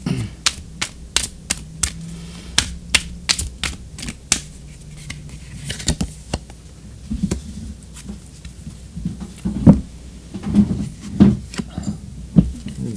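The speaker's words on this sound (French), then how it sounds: "on va tirer une carte d'oracle" Oracle cards shuffled by hand, a rapid run of crisp riffling snaps followed by softer sliding and tapping as a card is drawn, close and moderately loud.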